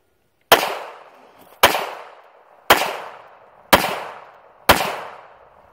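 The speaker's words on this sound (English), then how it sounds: "I shot them all right there, which is just about where I'd shoot it if I had a 2-inch 38." Five sharp handgun shots fired at a target, evenly spaced about one second apart, each a loud close crack with a short decaying ring and quiet between them.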